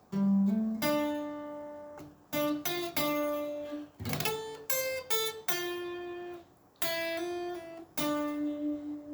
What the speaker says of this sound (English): finish off with a nice little hammer on and pull off